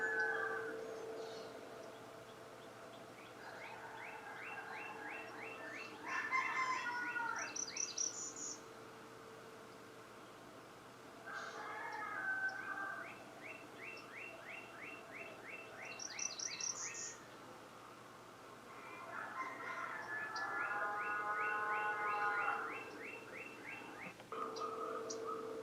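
Several bursts of bird calls, likely northern cardinals at a backyard bird feeder, come in three separate spells of repeated bright chirps over a steady insect drone. A few higher twittering notes sit among them, and no voices are heard.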